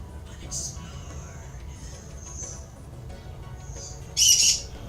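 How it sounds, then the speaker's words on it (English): A pet bird indoors gives a few faint chirps and calls, then one loud, sharp squawk close by near the end, over a quiet room background. "No, bird, stop!"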